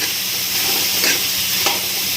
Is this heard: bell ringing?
no